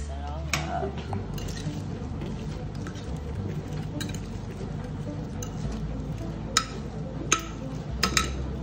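A utensil stirs food in a bowl in a home kitchen, giving soft scraping and patter with several sharp clinks against the bowl near the end, alongside steady low background noise.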